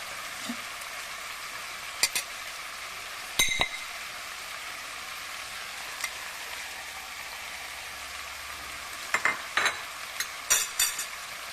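Ground coriander and spices fry in a pan for a hotel-style mutton curry, giving a soft, steady sizzle broken by a few sharp clinks of a utensil against the pot.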